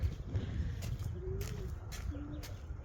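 Pigeons being released from a backyard loft to fly, with soft, faint cooing and light bird sounds over a low outdoor rumble.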